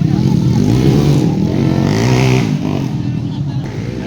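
Motorcycle engines during a race rev and roar close by, loud and rising then fading, with crowd babble and a voice talking over them.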